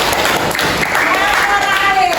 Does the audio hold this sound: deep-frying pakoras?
no